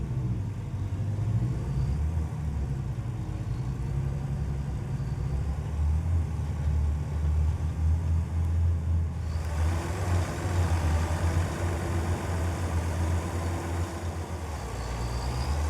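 Two tractors in Farming Simulator 25 idle with a steady low engine rumble. The tone shifts partway through to a brighter, slightly louder hum, with no talking.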